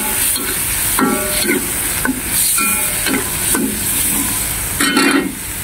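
Loud, continuous sizzling of pansit bato noodles stir-fried with light soy sauce in a hot pan, broken by recurring scraping and clanking of a utensil against the pan, no voices.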